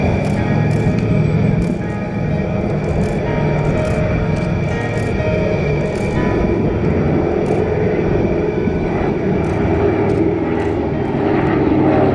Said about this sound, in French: Commençons par le Beechcraft modèle 18.